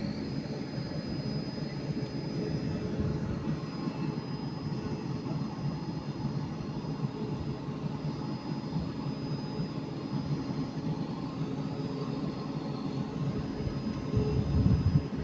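A Class 185 TransPennine Express diesel unit pulls out of Manchester Piccadilly on the Liverpool Lime Street service, a steady loud engine rumble with a faint high whine, building slightly toward the end.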